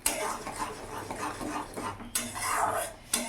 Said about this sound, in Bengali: আর কিছুক্ষণ মশলাটা আমি কষিয়ে নেবো, বেশি কষাবো না, হালকা একটু কষাবো